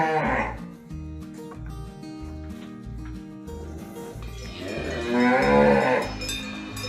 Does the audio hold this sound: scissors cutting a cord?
no